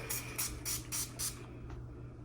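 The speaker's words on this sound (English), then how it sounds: "So it's a spray bottle." Five quick hissing sprays from a spray bottle in a steady rhythm, close and fairly loud, followed by a fainter sixth puff.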